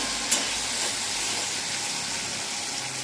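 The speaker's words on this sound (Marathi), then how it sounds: "ते शेंगदाणे पण छान परतवायचे" Peanuts roast in a pan with a steady, even sizzle and frying hiss that holds throughout, close and moderately loud with no voices.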